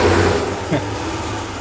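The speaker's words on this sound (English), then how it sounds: "Wife's trying to rev it while it's in reverse." A 2019 Ram 1500 pickup with a Corsa exhaust revving while in reverse, a loud, steady low engine rumble with a brief rise in pitch midway.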